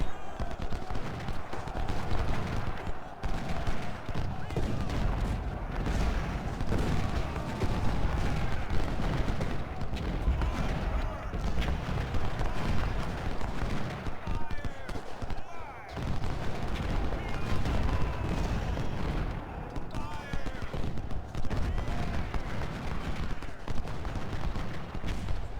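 Massed musket fire and artillery from the Civil War strategy game Ultimate General: Civil War roar on without pause, a steady, loud crackle mixed with booming shots, and a voice talks over it now and then.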